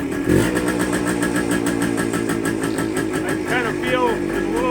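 A 1973 Kawasaki 175 motorcycle that had sat since the mid 1980s, its small engine idling with a steady close putter after the throttle is blipped, under someone talking.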